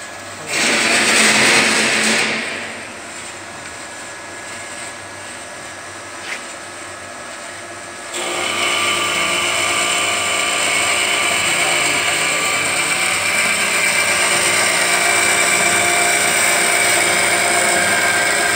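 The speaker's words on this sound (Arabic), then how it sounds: "تقطيع المنشار، الحديد بيتم عن طريق المنشار." A power saw cuts galvanized iron sheet for a water manhole cover, starting with a loud grinding burst, easing to a steady whine, then a long, loud, sustained high-pitched cutting screech close up.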